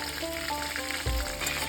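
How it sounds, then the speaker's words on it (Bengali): Green plantain pieces sizzle and crackle steadily in hot mustard oil in a pan, close and continuous, with a brief low knock of stirring partway through. "এই ভালোভাবে ভেজে নিতে হবে।"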